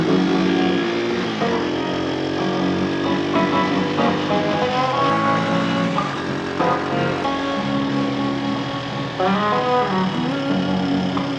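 A motorbike engine revs up and down in repeated surges, its pitch rising and falling, fairly loud and close.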